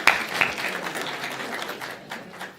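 A community audience at a talk in Barton Hills Village, Ann Arbor, gives a brief, fairly faint round of applause that thins out within a few seconds.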